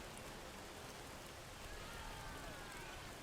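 Steady rain hiss from the Freezing Rain spell in the Age of the Ring strategy game, a dense even wash of falling drops that holds at one level throughout, with no voices over it.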